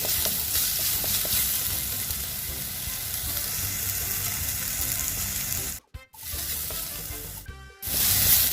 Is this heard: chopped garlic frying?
yes